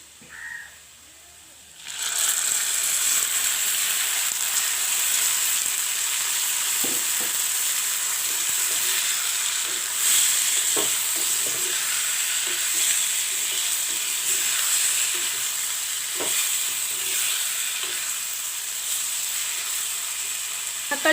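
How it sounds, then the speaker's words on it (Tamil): Onions frying in a pan, a dense continuous sizzle that starts after a brief quiet moment, with occasional soft scrapes and taps of stirring over about twenty seconds. "இப்போ வந்து வெங்காயம் ஒரு அரைப்பதத்துக்கு பொரிஞ்சு வந்துட்டுது"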